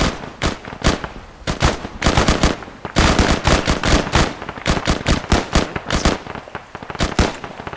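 Loud, close bursts of rapid gunfire from a war video game, some single shots and some quick automatic strings, repeating almost without a break for several seconds.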